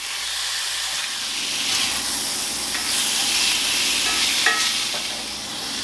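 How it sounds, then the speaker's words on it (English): Chicken pieces stir-fry in a pan over medium heat, a steady, loud sizzle and hiss with faint clatter as the meat is tossed around. "we're going to stir fry them on medium heat until there's no pink showing"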